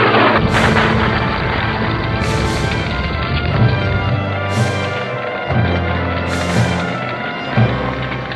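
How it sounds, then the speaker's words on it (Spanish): Deep, rumbling booms of bombs and exploding fuel at an airport recur every couple of seconds over a constant roaring background, heavy and powerful like blasts at a distance. "Siguen las explosiones en el aeropuerto"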